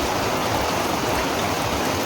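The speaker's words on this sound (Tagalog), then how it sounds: "Hindi pa rin tumitila yung ulan." Heavy rain pours steadily at a campsite in Zambales during a typhoon, a dense, even hiss of falling water with no gaps and no voices.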